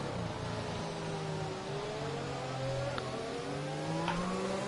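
Racing game car engine at the Baku street circuit in Azerbaijan, revving up and shifting through the gears, with a steady rising and falling whine that sustains across the lap and is heard alone.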